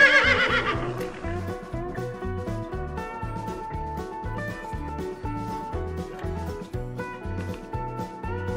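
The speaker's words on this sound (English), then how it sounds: "time for some random horse sound" A horse whinnies loudly at the very start, then gives way to a steady, rhythmic musical backing with a pulsing low beat that runs to the end.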